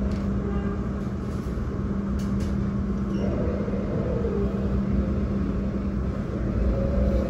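Steady low rumble and hum of the Sawunggalih passenger train pulling into Kebumen station, heard from on board, continuous and fairly loud with no voices.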